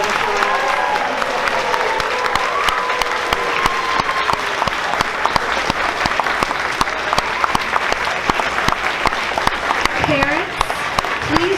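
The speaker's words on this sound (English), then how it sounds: "Let's give all of our rising 7th graders one big round of applause." Audience at a school sixth grade graduation claps loudly and continuously for rising seventh graders, dense applause from a crowd filling the room, with a few voices and cheers mixed in near the end.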